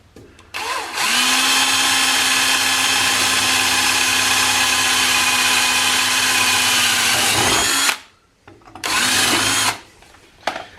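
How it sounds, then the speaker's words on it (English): A power drill whines at a steady high pitch for about seven seconds, drilling a small hole in a Honda generator housing, stops abruptly, then gives a short second burst. "I'm going to drill a small hole right here"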